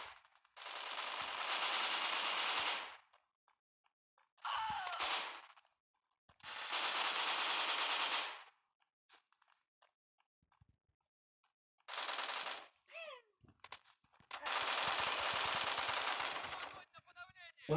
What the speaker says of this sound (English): as you can see, we just mowed those guys over with the AK.